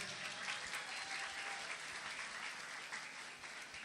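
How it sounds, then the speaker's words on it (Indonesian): Steady applause from an audience at an Islamic religious lecture in Indonesia, a dense continuous patter of many hands clapping at close range that holds evenly throughout. "Ayo tepuk tangan semuanya."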